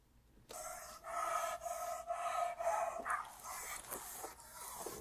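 A police dog at a hotel room during an arrest pants heavily and rhythmically at close range. Sharp barks and yips break through the panting, with no talk over it.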